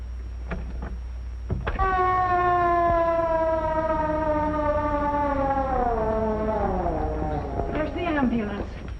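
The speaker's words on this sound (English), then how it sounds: "There's the ambulance." A loud ambulance siren sweeps in and holds steady, then slides downward in pitch as it passes, with faint voices in the background.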